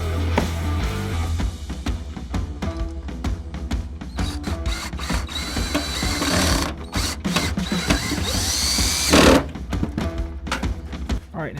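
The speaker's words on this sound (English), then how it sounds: "I'm going to drill out the hole and then put the screw in." A drill bores a hole through a sheet metal panel during a custom metal patch repair, giving a loud, close, continuous mechanical whir and grind with rattling texture throughout.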